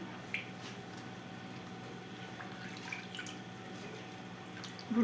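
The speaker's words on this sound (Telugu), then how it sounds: "ఇప్పుడు గోంగూరను ఈ విధంగా బాగా కడుక్కోండి." Gongura (sorrel) leaves being washed by hand in water, soft trickling, dripping and quiet squishing splashes close by, faint and even, with a slightly louder splash at the end and no talking.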